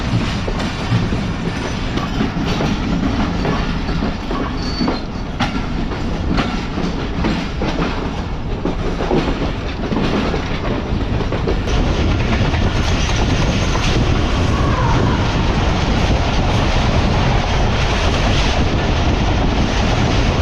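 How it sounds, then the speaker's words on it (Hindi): The 15 Up Karachi Express rolls fast through heavy rain at night, its wheels clattering steadily on the rails under constant loud rumble and wind rush, with no pauses. "हमारी 15 अप कराची एक्सप्रेस स्किप करने जा रही है बनलौका रेलवे स्टेशन को"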